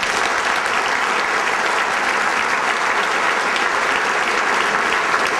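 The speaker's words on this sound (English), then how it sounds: "Let's have a round of applause for Roger." A dense round of applause from a banquet crowd at a charity roast, steady and loud throughout with no pauses.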